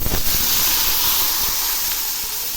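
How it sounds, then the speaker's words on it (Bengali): Pointed gourd (potol) frying in hot oil gives a loud, steady hiss and sizzle with faint crackles, close up and continuous. "এখন আমি ওই তেলে কয়েকটা পটল ভেজে নিচ্ছি।"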